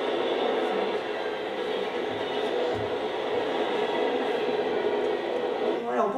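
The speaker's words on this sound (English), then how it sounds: "you can hear the wheels singing on these rails" Continuous heavy rumble of a freight train's wheels on the track, steady and loud, with a brief higher rattle near the end.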